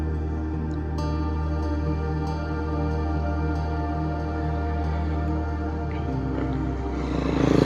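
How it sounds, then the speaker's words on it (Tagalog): A DJI Flip drone hovers very high up in strong, gusty wind. Its motors keep up a steady, strained buzzing whine with layered tones, continuous and fairly close, with no talking. "Iba yung tunog ng motor niya."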